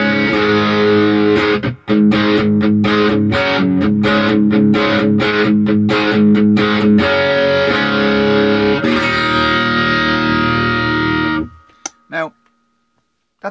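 A crunchy overdriven electric guitar runs through a Tube Screamer pedal, chugging in choppy, rhythmic palm-muted chords, then letting a chord ring before it cuts off abruptly with a last stray pick noise.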